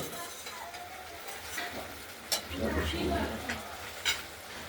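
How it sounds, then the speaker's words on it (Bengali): Spice paste for a katla fish curry fries and is stirred in a pan, a low continuous sizzle with scraping strokes and a few sharp utensil clinks. "দেখতে থাকুন, মশলাটা কষানো হচ্ছে, সময় লাগবে"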